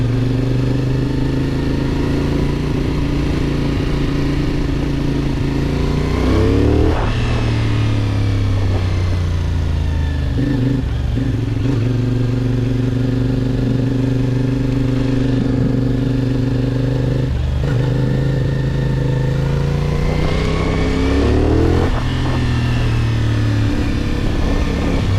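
A CFMOTO 450SR motorcycle engine drones loud and close throughout a ride, its pitch climbing under acceleration and then dropping sharply at each gear change, several times over the stretch.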